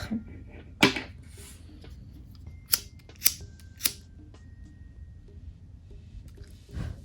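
Scissors trim nylon and lurex thread while a macramé bracelet is finished. A few crisp, close snips come at irregular intervals over a quiet background, with no talking.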